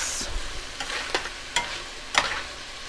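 Leftover peas and carrots being mixed in a pan with a low sizzle, a few distinct scraping stirs spaced about half a second apart, close and moderately quiet with no voices.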